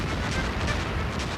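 Sailing-era warships fire a steady cannon barrage at close range, a dense continuous roar of booming blasts blending into one loud rumbling wash, with no talk.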